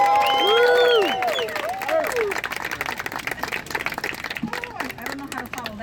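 Outdoors at a skate park groundbreaking in the Bronx, a crowd applauds and cheers, with loud whoops and voices at first, then settling into a patter of clapping as talk continues over it.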